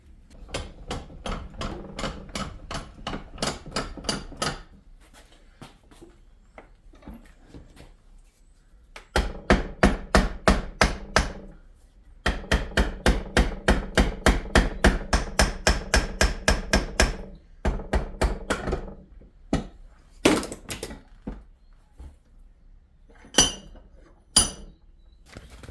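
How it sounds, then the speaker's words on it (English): A power steering pump body from a C5 Corvette LS6, clamped in a vise, is tapped with a hammer to work the shaft out, giving bursts of rapid metallic blows and occasional sharp clinks, close and loud with pauses between bursts. "I think I should be able to clamp this in the vise and tap on the body and hopefully pull that shaft out of there."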